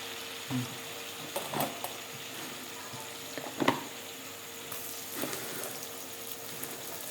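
Onions and chillies fry in butter for cheese anda bhurji, a soft steady sizzle running throughout with a few clinks of a spoon against the pan, heard close and without talk.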